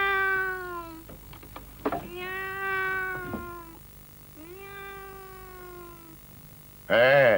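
Several long, drawn-out meows from a cat, with short pauses between them, ending in a sudden loud, wavering cry.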